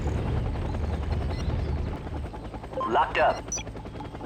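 Mi-35 Hind attack helicopter in the video game Act of War, a low continuous rotor and engine rumble running under a short spoken line, with bursts of combat noise layered near the end.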